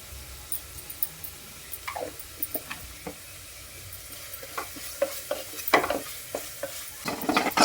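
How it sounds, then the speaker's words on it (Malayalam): Grated coconut frying in a pan, a faint sizzle under scattered scraping and stirring strokes that grow busier toward the end, close by in a quiet kitchen. "ഇപ്പുറത്ത് തേങ്ങായും ഞാൻ വറക്കുന്നതോടെ രണ്ടും കൂടി നോക്കണം അല്ലേ കരിഞ്ഞു പോവും"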